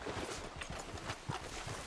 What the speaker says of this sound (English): let's dismount here. We won't get the horses down this path.